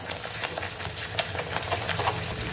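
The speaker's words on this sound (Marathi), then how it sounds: "छान तेल सुटेपर्यंत मी आता हा तळून घेणार आहे" Masala frying in hot oil for a drumstick (shevga) vegetable dish, a steady close hiss with crackling pops throughout, loud and continuous.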